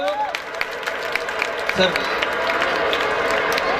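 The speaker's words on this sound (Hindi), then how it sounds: "फिजा नाज के लिए जरा जोरदार ताली बजाइए आप लोग" Audience at a school annual function clapping for a student prize winner, a sustained spread of applause mixed with crowd murmur and children's voices, with a brief spoken word near the start.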